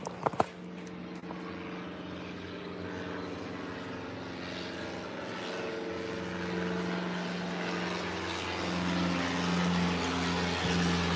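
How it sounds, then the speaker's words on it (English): A propeller airplane passing overhead, its droning engine hum with steady tonal whine building gradually louder over about ten seconds, after a couple of brief knocks at the start and no speech. "Oh, look at there's a plane coming right at us."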